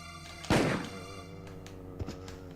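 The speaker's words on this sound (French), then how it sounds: "une balle de magnum, normalement, ça one-shot le zombie" A single heavy, booming magnum shot hits a zombie in Resident Evil Director's Cut, landing over a steady game music bed and followed by a smaller thud.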